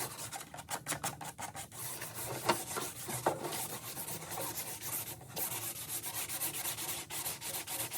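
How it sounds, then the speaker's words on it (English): A tapered wooden sail batten is sanded by hand with rapid, scratchy back-and-forth strokes, a close and continuous rasping rub with no voices. "just some final sanding by hand."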